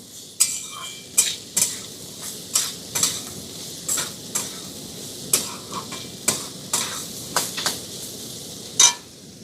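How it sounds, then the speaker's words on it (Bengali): Chopped vegetables being stirred and fried in a pan, a quiet sizzle broken by a regular series of sharp utensil clinks and scrapes against the pan, roughly one every half second, no talking. "সবকিছুকে 2-1 মিনিটের জন্য একটু নাড়াচাড়া করে ভেজে নেব।"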